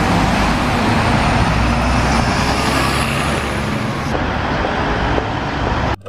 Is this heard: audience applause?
no